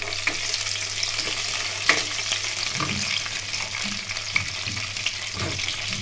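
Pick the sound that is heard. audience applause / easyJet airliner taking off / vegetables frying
vegetables frying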